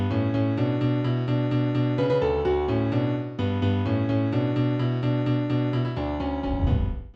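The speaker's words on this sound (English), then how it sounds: "So a melody and bass line sounds like this." A synth melody over a bass line programmed in FL Studio for a melodic bass house track, with bright repeating lead notes above a steady low bass, loud and continuous, dropping into a lower bass sweep at the end.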